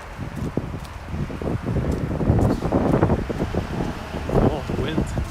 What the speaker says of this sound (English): Oh, wind gust is coming.